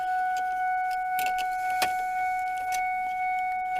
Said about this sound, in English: stupid Ford buzzers